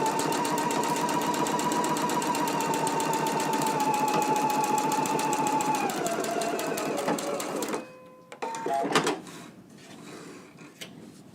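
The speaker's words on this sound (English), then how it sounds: "we can go to the sewing machine and stitch them at a 5/8 of an inch seam allowance" A sewing machine stitches a long seam in a fast, even, loud mechanical hum that stops after about eight seconds, followed by a few clicks and handling noises.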